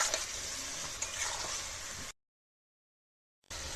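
A ginger, cumin and chili paste with turmeric, salt and chili powder frying in a pan makes a close, steady sizzle with stirring scrapes, cut by over a second of silence before resuming.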